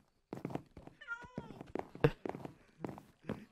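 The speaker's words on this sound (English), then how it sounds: "The cat." A Minecraft cat gives a single drawn-out meow in the middle, set among short thumps and clicks from the game.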